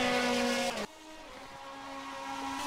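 Race car engine in a racing video game, a steady high whine that drops in pitch and volume as the car goes by, then another engine tone builds again behind it.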